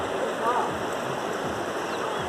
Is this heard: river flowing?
yes